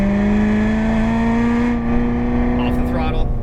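Corvette Z06 engine pulling hard on track at Las Vegas Motor Speedway, a loud steady in-car drone rising slowly in pitch under throttle, with a voice talking over it.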